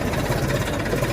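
A farm tractor engine idling steadily while parked on a farm, a continuous loud low rumble with a fast even throb and no pauses.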